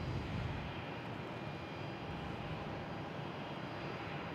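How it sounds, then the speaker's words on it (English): JetBlue Airbus A321 coming in to land on runway 22 left at Boston Logan, a steady, fairly distant engine rush with broad, even noise and no clear rise or fall. "On 22 left, we have a JetBlue coming in from San Diego, an A321"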